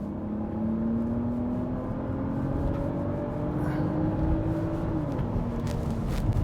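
Inside a 2022 Mercedes GLE450, the engine hum rises in pitch as the automatic transmission downshifts from seventh gear, a steady cabin drone with a gliding tone that steps back down near the end, fairly quiet and without talking.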